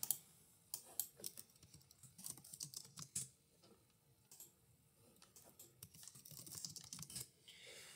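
Quiet, close keystrokes on a computer keyboard as a short math query is typed, coming in uneven bursts of clicks with brief pauses between them.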